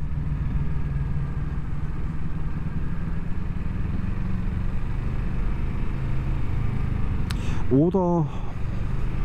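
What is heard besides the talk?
motorcycle riding up to a castle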